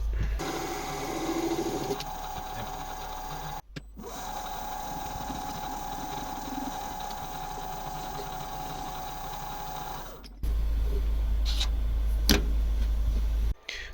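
A metal lathe parting off a metal workpiece runs steadily with a bright whining tone and grinding noise, stopping briefly, then resumes; a louder rough burst near the end.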